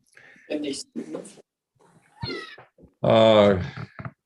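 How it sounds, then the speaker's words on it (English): Several meows from a cat, short cries followed by a longer, louder drawn-out yowl, heard close with no other sound around them. "I hear someone's cat."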